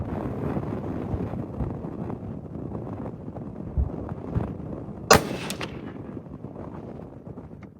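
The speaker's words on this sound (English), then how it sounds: "And it's windy." Gusty wind buffets the microphone at an outdoor shooting range, a steady low roar with rising and falling surges, broken once by a sharp crack of a gunshot midway.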